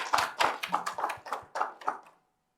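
Congregation clapping in praise during a Korean church Sunday worship service, a short run of about a dozen distinct claps in rough rhythm, fairly close and clear, ending abruptly into silence.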